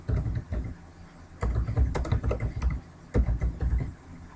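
Rapid typing on a computer keyboard as a campaign title is entered, with dense clattering keystrokes in uneven bursts and brief pauses between them, close and clear with no speech.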